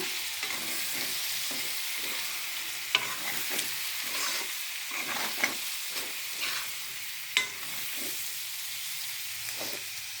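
Rice mixture stirred in a frying pan with a steady sizzle, as a spatula scrapes in repeated strokes and makes a few sharp taps against the pan, close by and with no voices.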